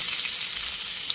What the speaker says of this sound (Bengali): তো আমি এবার পেঁয়াজটা ভেজে নেব।